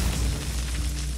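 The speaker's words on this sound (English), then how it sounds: "So let's see. Explosive trap." Explosive Trap detonating in the Hearthstone card game, a low booming blast with a sustained rumbling tail that fills the short moment at steady loudness, no voices over it.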